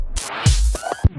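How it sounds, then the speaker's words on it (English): Drum loop run through the Verispeed tape-stop and reverse effect, with hits smearing, warping and dragging in pitch over a short burst. The sound is loud and heavily processed, with no voices. "This is basically a tape stop reverse type effect called Verispeed."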